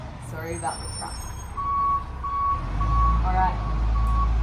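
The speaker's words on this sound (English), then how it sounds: "Sorry about the truck." A reversing truck beeps in a steady, evenly spaced series of high tones in the middle distance, backed by a low diesel engine rumble that swells near the end.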